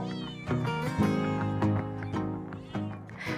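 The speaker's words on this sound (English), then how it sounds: "The neighborhood cats started congregating nearby and meowing so hard." Several neighbourhood street cats in Datça, Turkey meow and caterwaul insistently, their overlapping cries continuous and fairly close.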